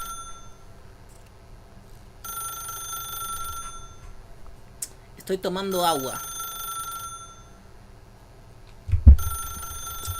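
A phone in the game The Stanley Parable rings in repeated electronic bursts with gaps between them, while someone talks and other game sounds break in between rings.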